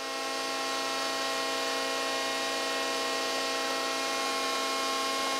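An injection molding machine running idle during purging of its barrel and screw, a steady loud mechanical hum with constant tonal whine that stays unchanged throughout, no voices.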